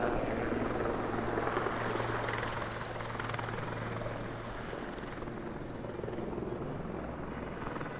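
A helicopter drones steadily overhead above New York City's High Line elevated park in summer, a continuous rotor rumble with broad wash that fades slightly partway, heard at moderate distance amid outdoor city ambience.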